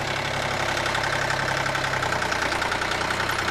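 A steady, low, idling rumble from a motorcycle engine picked up by a helmet-mounted mic on an open face helmet, droning continuously with slight rhythmic knock and nobody speaking over it.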